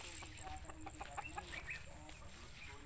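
Chickens cluck in short, faint, scattered bursts over a steady background hiss.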